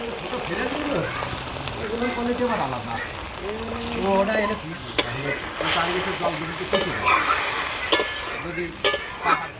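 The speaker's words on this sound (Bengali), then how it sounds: "মশলাটা কষানো হয়ে গেছে, এবার আমি পরিমাণ মতো জল দিয়ে দেবো" Water is poured into a sizzling, well-fried spice paste for a rohu fish and poppy-seed curry, raising bursts of spluttering hiss and stirring while a voice talks over it.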